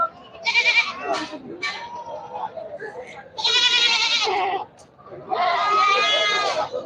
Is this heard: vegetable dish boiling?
no